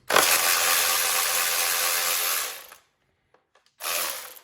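A cordless ratchet spins a socket on an extension, a loud close whirring buzz running for over two seconds, then a brief pause with faint ticks before a second shorter burst.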